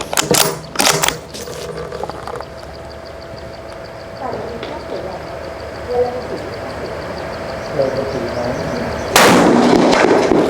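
A rifle fitted with a Vortex Strike Eagle 1-8x24 scope fires at a human silhouette target on a 200-metre range. A few sharp, loud cracks come near the start, quieter range noise follows, and one more loud shot comes at the end.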